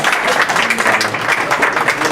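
Audience applause at a press conference after a GLORY 8 kickboxing event, steady dense clapping filling the whole stretch at close range, with no voices over it.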